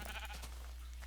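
A sheep in the Minecraft video game bleats once, short and fairly quiet, alone with no talking.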